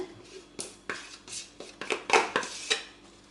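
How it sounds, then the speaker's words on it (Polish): A spoon taps and scrapes against a bowl while mascarpone cheese is spooned into whipped cream, giving a quick run of close, bright clinks and knocks. "Do śmietany dodajemy serek mascarpone"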